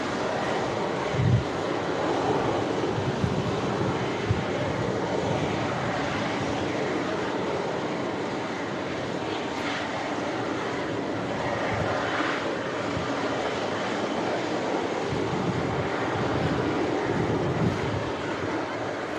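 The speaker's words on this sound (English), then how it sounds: "The Ryanair 737 on the way in." Ryanair Boeing 737 on approach to Manchester Airport in strong crosswinds, its engines a distant steady roar mixed with gusting wind noise on the microphone.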